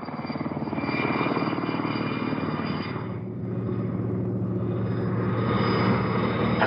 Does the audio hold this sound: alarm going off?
no